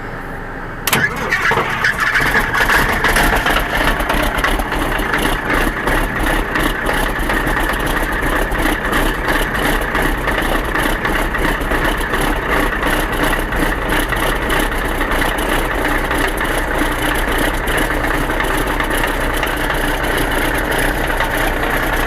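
A Caterpillar 3306B direct-injection diesel engine in a 37 machine cranks briefly and catches almost at once, then settles into a steady, rough, clattering idle that continues loud and close, with no voices.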